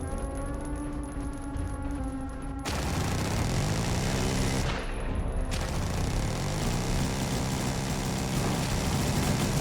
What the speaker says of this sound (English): But they've got the assault cannon.